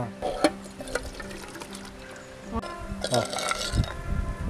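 Water splashes and trickles as it is poured off from a pot of boiled food, a short uneven stream with clinks of metal, while a person talks over it in Tamil.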